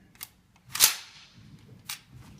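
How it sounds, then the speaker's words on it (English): M249 light machine gun bolt ridden forward by hand with the cocking handle, giving a sharp metallic snap preceded and followed by smaller clicks, close and brief. "ride the bolt forward by pulling the cocking handle to the rear, palm up"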